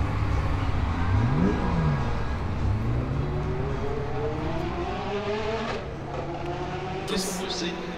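Race cars at the Le Castellet circuit during the Dix Mille Tours 2023 endurance event, several engines droning and shifting pitch as they pass, loud and continuous, with a close car sweeping by and someone talking over them.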